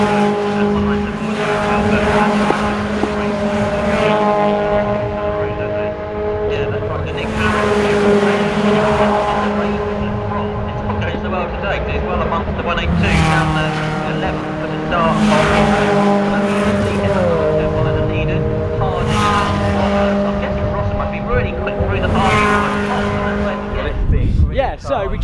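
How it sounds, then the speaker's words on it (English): Renault Clio Cup race cars at Silverstone scream past in repeated waves, engines rising and falling through gear changes with occasional tire squeal, loud and close, while a commentator talks over the racing. "we just watched the Clio Cup race"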